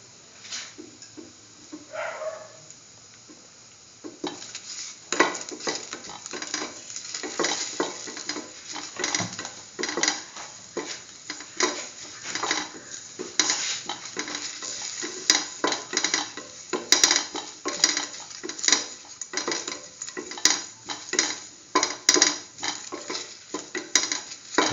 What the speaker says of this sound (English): keep on salting, salt and mix thoroughly.